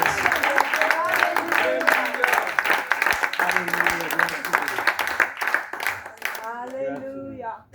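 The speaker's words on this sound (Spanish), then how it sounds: "Dele ese fuerte aplauso." A church congregation applauds loudly for several seconds, dense and continuous clapping over a sermon service, with a voice speaking over the applause as it fades toward the end.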